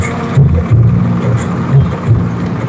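Tractor engines rolling in a farmers' convoy in Sampla, Rohtak, a close low chugging rumble with periodic louder swells, steady throughout under faint background voices.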